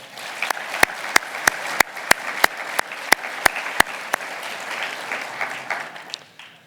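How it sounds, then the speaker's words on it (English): An audience at a university address applauds, a continuous crowd clapping with a series of sharp, regularly spaced loud claps standing out near the front before it thins and fades. "can we give her a round of applause?"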